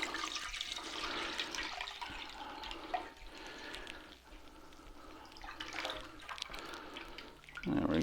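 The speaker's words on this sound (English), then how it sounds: "So we'll get started by putting our milk" Milk poured into a pot for homemade yogurt, a continuous watery splashing and gurgling close up that rises and falls over several seconds.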